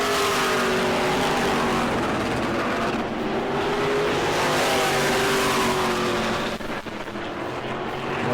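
E-Mod race cars run laps on the track at New Smyrna during a 30-lap feature, their engines roaring steadily and loudly throughout, with a brief dip and shift in pitch partway through as cars pass.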